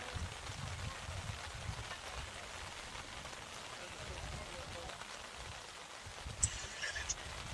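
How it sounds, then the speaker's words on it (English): Light rain sprinkles steadily on a canopy at an outdoor softball game, a soft continuous patter with faint background commotion and a brief sharper knock near the end. "As you can probably hear the rain, we're in the canopy."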